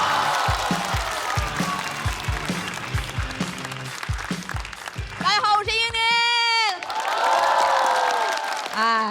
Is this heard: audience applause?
yes